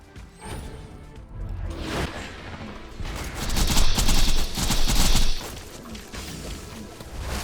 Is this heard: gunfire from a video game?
yes